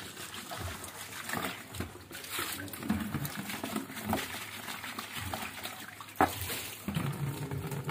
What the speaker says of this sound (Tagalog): Asan tayo kukuha ng tubig? Ayan, may gripo.